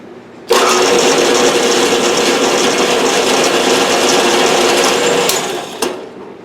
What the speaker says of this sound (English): I'm going to see if I can power tap it just for the heck of it.